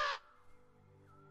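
A single loud, harsh caw from a bird opens the clip, then fades into near silence with only a faint low hum.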